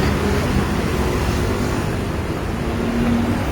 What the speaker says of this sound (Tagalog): Ayan na naman bus.